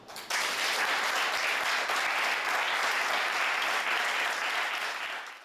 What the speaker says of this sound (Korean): 자, 우리 자축하는 의미에서 박수.